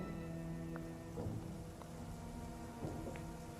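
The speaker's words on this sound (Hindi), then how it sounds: "बारिश ने अब जोर पकड़ लिया था और सन्नाटे में केवल बारिश का ही शोर सुनाई दे रहा था" Steady rain pours down at night in a quiet setting, a continuous even wash of falling water with a few faint low rumbles that may be distant thunder.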